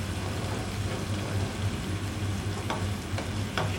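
Chopped onions fry in a pan with a bitter gourd dish, giving a steady, close sizzle with a low hum beneath and a few soft stirring scrapes near the end.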